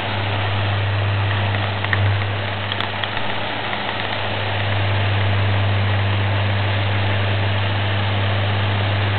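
An electric fan runs steadily while creating a mini tornado of water mist, a constant low hum with a broad airy whoosh, continuous and unchanging throughout with no voices.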